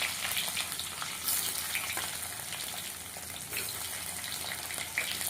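Whole cumin, ginger, dried red chili, bay leaf and potatoes sizzle steadily in a hot pan of oil, a dense crackling hiss that holds at an even level throughout with no voices.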